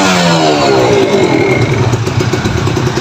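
Kawasaki Ninja FI motorcycles warm up, their engines idling loudly and close by, with a rev whose pitch swells and falls away into a rough, clattering idle.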